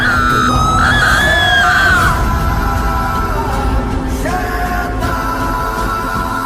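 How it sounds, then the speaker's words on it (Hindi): A long, loud scream rings out in a forest at night, rising and wavering before trailing off, followed by further strained cries. "आगे से किसी की चिल्लाने की आवाज आती है"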